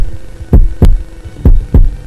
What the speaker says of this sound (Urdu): آپ کا دل جو سالہ سال سے دھڑک رہا تھا دھڑکنا بند کر دے گا۔